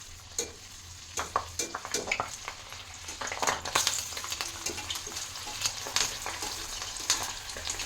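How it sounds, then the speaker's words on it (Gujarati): Green chillies fry in oil beside Kathiyawadi bhajiya, giving a continuous close sizzle broken by frequent sharp clinks and scrapes of stirring, with no voices. "ચાલો આપણે મરચાં પણ ભેગા તળી લઈએ."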